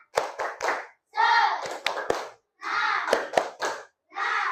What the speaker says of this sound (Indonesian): Mana semangatmu? Tepuk semangat.